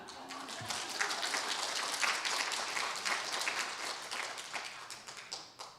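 A church congregation at a Korean Sunday worship service claps in a dense patter of many hands, steady and moderately loud, tapering off toward the end.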